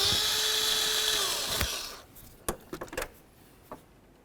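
A power tool spins out 10mm bolts holding the fan shroud of a 2006–10 Ford Explorer radiator: a loud, steady whine for about two seconds, then stops, followed by a few short clicks and knocks nearby.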